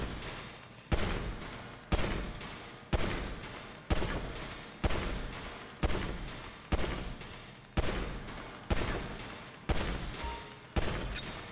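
Handgun shots in GTA V, fired one at a time at a steady pace of roughly one per second; each is a sharp, loud crack with a short decaying tail, about a dozen in all, with no talking.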